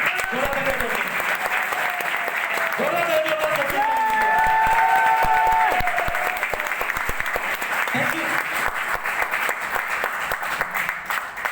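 Sustained audience applause at a business motivational event, a dense wash of many hands clapping loudly for the full stretch, with cheering voices and a few tonal calls rising above it midway.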